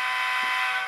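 A sustained, steady Nathan K3LA locomotive air horn chord from a model train sound decoder blares at close range, loud and unbroken for the whole stretch.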